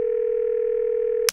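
A steady telephone dial tone hums alone as a call to the police is placed in a cartoon about cats, cut off abruptly by a brief click at the end.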